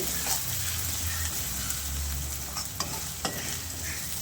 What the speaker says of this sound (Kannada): ನಾನು ಹಸಿರು ಮೆಣಸಿನ್ಕಾಯಿ ಹಾಕೋತಾ ಇದ್ದೀನಿ, ಕಟ್ ಮಾಡ್ಕೊಂಡಿರೋಂಥದ್ದು. ಅದನ್ನು ಇವಾಗ ಚೆನ್ನಾಗಿ ಸ್ವಲ್ಪ ಫ್ರೈ ಮಾಡ್ಕೊಳ್ಳೋಣ